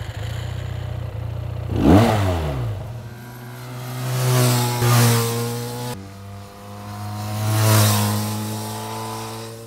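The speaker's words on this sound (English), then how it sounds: "when you rev it, you are treated with a loud roar" A QJ SRK 400 motorcycle engine idles, then is revved hard several times, its exhaust rising to a loud, throaty roar and dropping back, close up.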